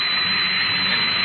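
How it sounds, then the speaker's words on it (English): A digging machine's drill runs at full speed in a radio drama, a loud, unbroken high-pitched roaring whine with a steady, dense texture and no voices over it. "Turn on the drill with the tread stationary. Aye, sir. Full speed drill."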